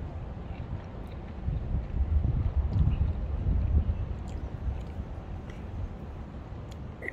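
Wind gusts outdoors at a resort campsite, a soft broadband rush that swells in the middle and then settles. It buffets the microphone faintly, with no talk over it.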